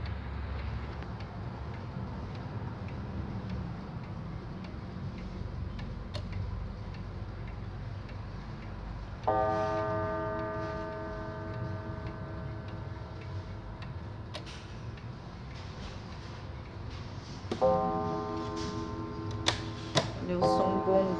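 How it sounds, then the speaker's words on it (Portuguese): A German-movement Junghans pendulum wall clock with its original case ticks steadily and softly, and ringing chime strikes sound out twice over the even beat. "agora a batida deste relógio maçom"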